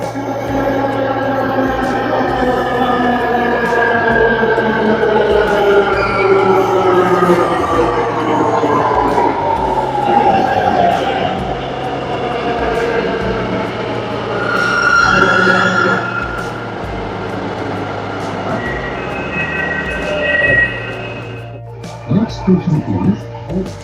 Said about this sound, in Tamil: ட்ரெயின் வந்துச்சு.